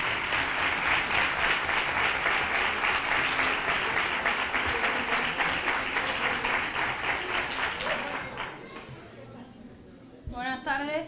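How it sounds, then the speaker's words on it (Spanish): Loud, sustained applause from a crowd at a Three Kings proclamation and crowning ceremony in Nerva. The clapping runs steadily for about eight seconds, then fades, and voices and a brief clatter follow. "Un fuerte aplauso para ella."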